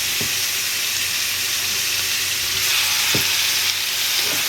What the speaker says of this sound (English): We're gonna put it back to high. And just place the steak in there.